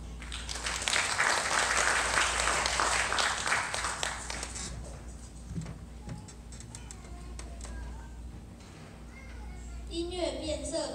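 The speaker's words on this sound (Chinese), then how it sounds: "那请他们掌声欢迎。" Audience at a children's orchestra summer-training concert clapping loudly for the first few seconds, then fading into a quieter room with scattered voices and faint bird-like chirps near the end.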